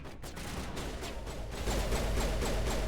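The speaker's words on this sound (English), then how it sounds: "And we got Geth shooting at us." Geth gunfire in the video game Mass Effect Legendary Edition: a close, loud volley of rapid repeated shots that grows into a steady stream of bursts over the last half, with no talking.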